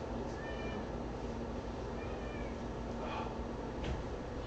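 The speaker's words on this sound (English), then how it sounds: "there's a cat in the background" A house cat meows several times, faint and somewhat distant, spaced irregularly over a steady background of room noise with no talking.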